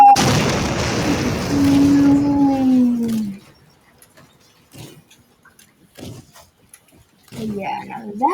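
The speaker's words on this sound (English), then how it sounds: "Ooh, a cinematic bomb would be nice." A cinematic bomb in the Teardown video game explodes with a loud, deep boom and long rumbling roar lasting about three seconds, followed by near silence with scattered faint debris sounds and brief talk at the end.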